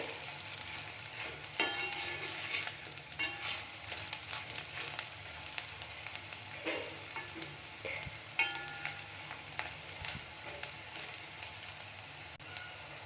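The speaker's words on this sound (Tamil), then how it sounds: "ஒரு 10 மினிட்ஸ் இப்படியே எண்ணெயிலே ஃப்ரை பண்ணுங்கள்." Oil sizzles and crackles steadily in a pan as raw banana slices fry, with occasional pops and stirring clicks, close by and with no voices.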